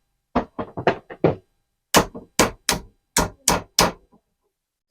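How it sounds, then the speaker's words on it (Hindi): The end of a copper pipe is struck repeatedly with a hammer before gas welding: about twelve sharp, close knocks, a quick cluster of five, a brief pause, then a second slower run of blows. "हमने इसको किसी चीज़ से ठोक देना है,"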